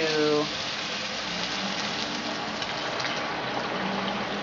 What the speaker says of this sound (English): you want to completely cover them with water